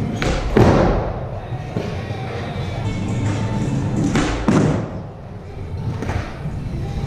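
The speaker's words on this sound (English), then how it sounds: "Kickflip and heelflip before I start." Skateboard kickflip and heelflip landings: a few hard thuds and board slaps, close and loud over steady outdoor rumble, spaced several seconds apart.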